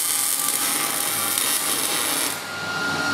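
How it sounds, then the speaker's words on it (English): Welding a broken stud on a 1996 Impala SS, a steady loud crackling hiss that runs continuously and close, easing slightly near the end. "I'm going to weld this up, essentially turning the stud into a bolt"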